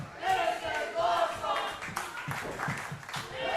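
Crowd at an independent professional wrestling show chanting in rhythmic, shouted bursts, with clapping mixed in, steady and fairly close throughout the short stretch.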